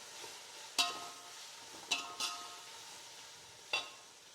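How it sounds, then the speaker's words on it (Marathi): Onion masala for biryani is stir-fried in a pan, a faint quiet sizzle broken by four sharp spatula scrapes and clinks spaced a second or so apart. "आता चांगलं मिक्स करून घेते, चांगलं परतून द्यायचं हा पण मसाला."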